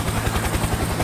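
A helicopter in the video game Project I.G.I 2, its rotor thumping in a fast, even chop over a dense engine roar, loud and close for the whole brief moment.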